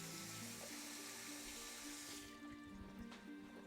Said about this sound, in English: Just gonna give that a quick wash.